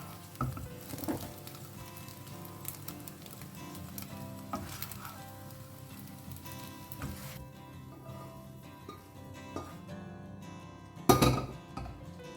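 Chicken sausages fry in a pan with a quiet, steady sizzle and occasional clinks and scrapes of utensils, ending in a louder clatter near the end. The sound is close and faint, with no talk.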